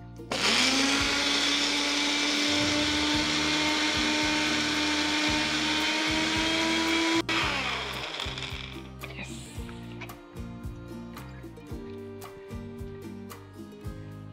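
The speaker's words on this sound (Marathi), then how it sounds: "तर आता आपल्याला हे मिक्सर मधून एकदम बारीक असं करून घ्यायचंय." A mixer grinder whirs loudly and steadily for about seven seconds as it blends roasted coconut and garlic masala into a paste, then cuts off, followed by scattered clatter as the jar is handled.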